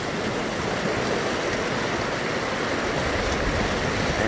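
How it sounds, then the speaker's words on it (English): The Big Thompson River rushes through the middle of Estes Park, running high with spring snowmelt, a steady, loud, broadband roar of flowing water with no voices. "This is the Big Thompson River, runs right through the middle of Estes Park"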